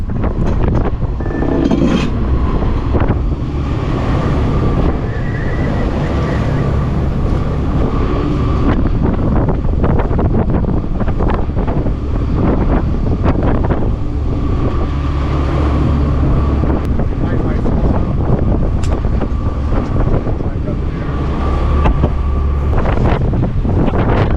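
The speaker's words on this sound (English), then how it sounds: "wind gusts were ranging between 20 to 25 knots, and the seas were starting to build" Steady roaring wind, gusting 20 to 25 knots at sea aboard a sailboat with building seas, buffets the microphone continuously, with broadband rushing noise and occasional sharper gusts over a low rumble.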